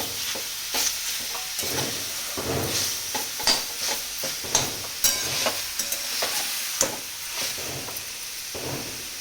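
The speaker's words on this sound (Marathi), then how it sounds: "आता किस सगळा कढईत टाकून घेते." Grated raw mango being stirred in a kadhai for a jaggery kairi murabba: a spoon scrapes and knocks in repeated close strokes over a steady, loud sizzle, with no voices.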